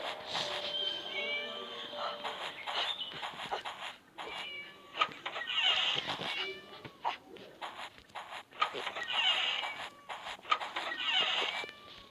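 A cat in the video game Scary Teacher meows repeatedly in drawn-out, wavering calls, fairly close and clear, with brief gaps between them.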